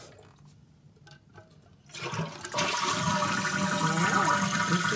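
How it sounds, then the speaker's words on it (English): A toilet flushes after the slack in its chain has been adjusted. A few quiet clicks come first, then a loud rushing swirl of water that keeps going steadily to the end. "He adjusted the slack in that chain, and now it's flushing again."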